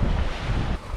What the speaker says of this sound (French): Beaucoup plus de vent que prévu, c'est annoncé pétole. Et il souffle, disons, 18 nœuds de vent.